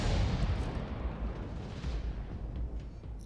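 Object 261 self-propelled artillery gun in a video game fires one heavy, booming shot, loud and close, with a long rumbling tail that slowly fades.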